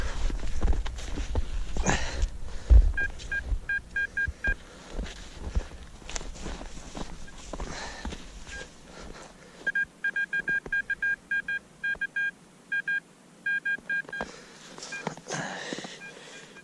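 Metal detector signal tones while digging for coins outdoors, several bursts of short repeated beeps in two groups, with scraping, footsteps and handling noise in between.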